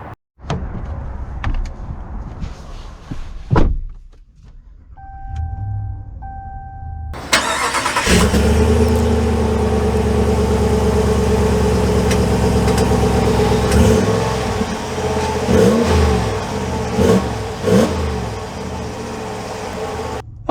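2022 Ram 1500 BackCountry pickup with a door shutting, a short chime, then the engine starting and settling into a steady loud run that swells a few times as it pulls away.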